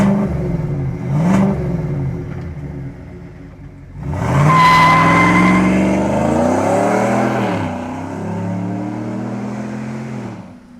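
A supercharged 2024 Chevrolet Silverado Procharger RST engine cranks and fires up, then revs hard with a rising, loud roar that settles into a steady rumbling idle close by.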